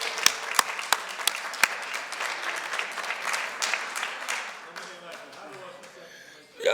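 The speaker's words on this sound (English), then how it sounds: "Please let's give a round of applause to Reb Shlomo for all that he does" A gathering at a Talmud study siyum in Jerusalem breaks into applause, lively clapping with a few sharp nearby claps standing out, tapering off toward the end as a voice cuts in.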